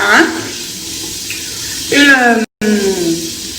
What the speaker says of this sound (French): en même temps que je vais me rincer le visage